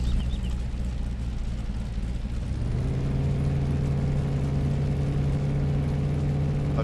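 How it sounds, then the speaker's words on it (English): A farm truck's engine runs steadily and then settles into a lower, even hum partway through as the truck is moved out of the way. The sound is close and continuous, with no talk. "I'm going to move this truck out of the way."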